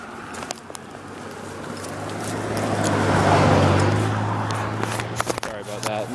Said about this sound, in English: That is a loud car.